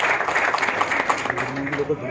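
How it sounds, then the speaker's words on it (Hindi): Audience applause at a business event in Delhi, a dense patter of clapping that continues steadily for about two seconds, with voices talking over it. "सो इन सबके लिए एक बार जबरदस्त तालियां।"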